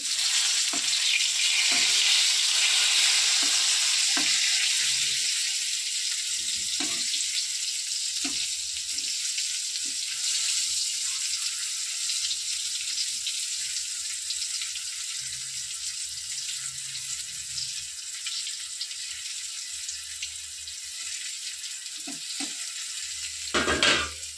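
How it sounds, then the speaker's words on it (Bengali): Pointed gourd (potol) slices fry in a pan, a steady hiss of hot oil up close with occasional soft knocks and stirring scrapes. "এখানে পটল ভাজা হচ্ছে"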